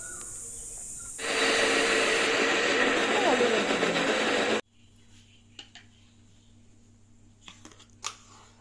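A mixer grinder whirs loudly as it grinds soaked urad dal into a coarse paste for medu vada. The harsh, steady roar starts abruptly, runs for a few seconds, then cuts off, leaving faint kitchen clatter.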